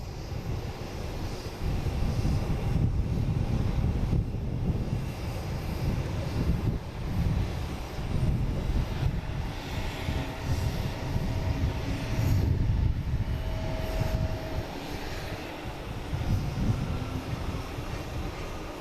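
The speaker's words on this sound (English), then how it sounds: "And we have a Bombardier Challenger 650 coming in from Seattle." NetJets Bombardier Challenger 650 business jet arriving, a strong rumbling engine roar that pulses and surges in waves, loud and fairly close throughout.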